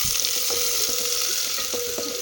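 Sliced onions sizzle loudly in hot ghee for an egg biryani, with a steady bright fry and light scraping clicks as a spoon stirs them around the pan.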